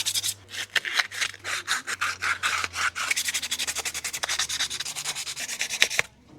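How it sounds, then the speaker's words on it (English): Scrap wood is sanded by hand in a quick, regular run of rasping back-and-forth strokes, close and fairly loud, then stops abruptly near the end. "Now sand it just a little bit more by hand"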